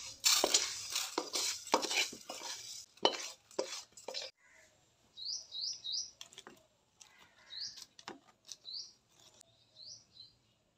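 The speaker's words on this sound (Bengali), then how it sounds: "ডালটাকে বেশ কিছুক্ষণ ভালো করে ভাজতে হবে, যতক্ষণ না গোল্ডেন কালার আসছে।" Lentils are dry-roasted in a kadai until golden, with scraping and clattering stirring strokes in irregular bursts at first, then quieter, while birds chirp repeatedly in the background.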